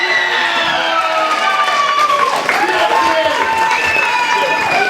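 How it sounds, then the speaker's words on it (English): Audience at a bodybuilding competition applauding the winner, a dense wash of clapping and cheering with a sustained voice ringing over it throughout. "And an excellent winner, let's give her a big round of applause, Rae Bright!"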